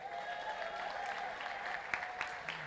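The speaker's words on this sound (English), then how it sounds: "Give her a round of applause" An audience applauds at a PNM political meeting in Tunapuna, steady mid-distance clapping filling the whole moment with no voices over it.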